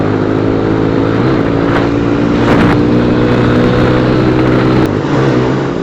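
A motorbike engine drones loud and close with a steady low harmonic hum, rising slightly in a brief rev midway, with no talk.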